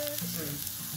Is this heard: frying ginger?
yes